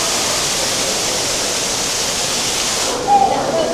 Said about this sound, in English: Got a waterfall on either side of us here.